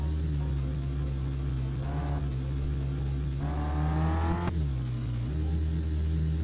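Game car engine revving and accelerating hard in a car-selling video game, a steady loud motor drone with rising harmonic whines at two moments, continuous with no talk.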